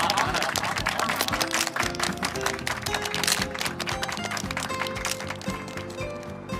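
A crowd applauds at a launch banquet for a new Jinyutang red-and-white porcelain wine, welcoming a family representative on stage; steady, dense clapping runs throughout, mixed with background music.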